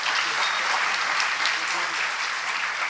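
Audience applause greets a speaker, Dr. Ayub Cherian, as he comes onto the dais at an event: a steady, dense wash of clapping, fairly close and sustained for the full stretch with no talking over it.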